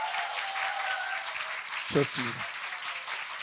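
Applause from an audience at a live talk event continues as a host welcomes an author and a labor attorney, a steady clapping bed with a short spoken remark over it partway through.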